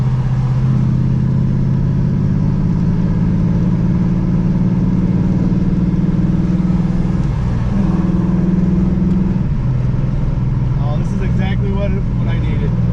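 A Chevy 383 crate engine in an Olds 442 drones steadily and loud while driving, with a deep low rumble that dips and swells near the end as the revs change; people talk over it.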